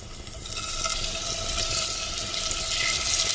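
Steady broadband sizzling of mutton keema bullets frying in a hot pan with star anise and chilli, continuous and fairly loud with a constant crackling hiss throughout.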